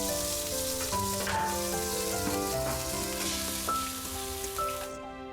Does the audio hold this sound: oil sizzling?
yes